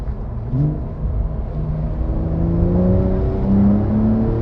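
A 2020 Porsche Carrera 4S (992) pulls hard under added power, its engine a steady, rising drone with climbing harmonics, close and continuous throughout with no voices.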